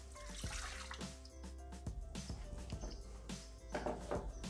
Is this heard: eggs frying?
no